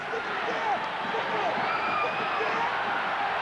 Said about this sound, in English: the crowd behind me is going crazy